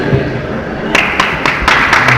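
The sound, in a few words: applause for the first place winner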